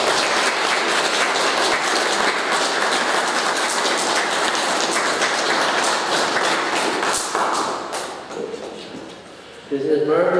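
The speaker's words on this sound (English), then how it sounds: "And I think that deserves a round of applause." Applause from a congregation at a Requiem Mass, a thick, steady patter of many hands that runs for several seconds before dying away, with a brief new sound at the very end.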